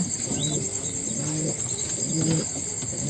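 Pigeons coo in soft, low, repeated phrases near at hand, mixed with a few faint chirps over a constant high-pitched hum.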